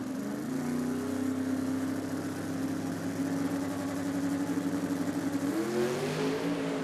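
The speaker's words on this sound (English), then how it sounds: "That's him there with the Turbo Mustang up against Roland Boletta from Switzerland." A turbocharged Ford Mustang drag car at a drag racing event, its engine holding a steady droning note at moderate distance before the pitch climbs as it accelerates, with no talking.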